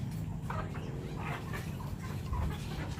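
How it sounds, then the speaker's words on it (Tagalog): Hens and roosters on a small farm cluck repeatedly in short, scattered bursts, faint against steady background noise with no talking. "Yung lalaki dalawa na lang, yung tandang."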